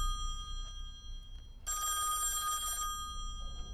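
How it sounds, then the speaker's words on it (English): A telephone rings in the horror video game Song of Horror, one steady ringing burst over low, dark ambient drone, with no talking. "The phone."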